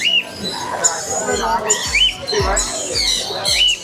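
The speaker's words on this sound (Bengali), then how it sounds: "হলুদ ঝুঁটির সাদা কাকাতুয়া, একেবারে বিরল প্রজাতির বিশাল বড় একটি পাখি" Harsh, loud squawks from a yellow-crested white cockatoo repeat several times in quick bursts, close by, with some background noise between calls.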